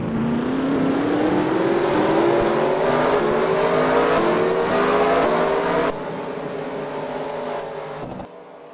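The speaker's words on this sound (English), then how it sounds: "The engines have been fired," Race car engines fired together at Knoxville Raceway, a loud layered roar with rising engine tones that builds, then drops in level and cuts off near the end.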